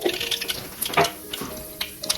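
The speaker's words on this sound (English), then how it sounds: "I'm going to splatter the mustard seeds" Mustard seeds dropped into about three tablespoons of hot oil in a pan pop and crackle in scattered sharp bursts, a busy spluttering over a steady hiss.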